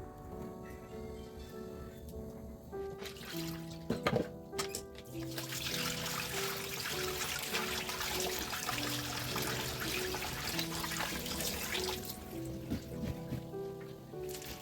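Running water pours steadily as beef tendon (kikil) is washed, a continuous splashing stream lasting most of the stretch after a few quieter kitchen clatters at the start, with soft background music.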